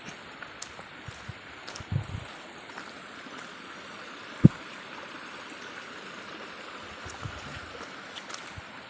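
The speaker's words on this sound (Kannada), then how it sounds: "ಯಾವುದೋ ಜಲಪಾತ ಕೂಡ ಹರಿತಾ ಇದೆ ನೋಡಿ ಇಲ್ಲಿ." A waterfall flows at the Bisle Ghat viewpoint after hours of rain, heard as a steady, even rush of water from a moderate distance, with a couple of faint knocks and no voices.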